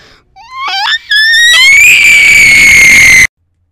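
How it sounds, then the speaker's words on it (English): A person screams loudly and shrilly, rising in a few short yelps before breaking into one long sustained high-pitched scream that cuts off abruptly. "just him screaming at the end"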